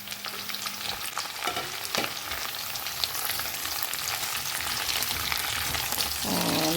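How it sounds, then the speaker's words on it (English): Carrots, cauliflower and French beans sizzle in a pot over medium to high heat while a spoon stirs and scrapes them, a constant close frying hiss with occasional knocks. "cook the veggies for about 2 minutes, stirring on medium to high heat."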